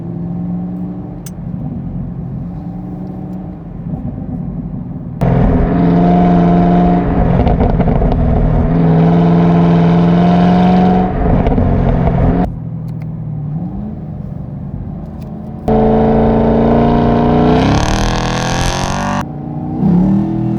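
A car engine drones and revs loudly in bursts, dropping to a lower idle between pulls, with rough exhaust crackling and popping as the throttle changes, around 2,700 RPM.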